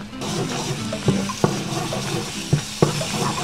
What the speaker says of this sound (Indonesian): Kita tumis sampai matang supaya dia tidak bau langu.